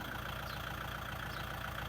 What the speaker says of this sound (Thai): วันนี้มีรถไถ L4708 DT 1คันครับผมมานำเสนอ